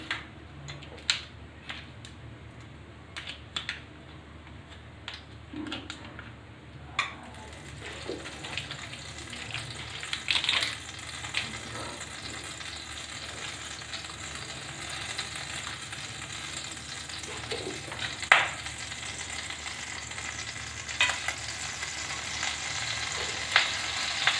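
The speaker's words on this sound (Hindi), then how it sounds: "हमारी गर्म हो गई है, हम तेल को डाल देते हैं। अब उसमें हम बटर को भी डाल देंगे।" Oil and butter sizzle and fry in a heated pan while malai kofta is prepared, a soft steady crackle that builds and grows busier, with occasional clinks and stirring sounds and no talking.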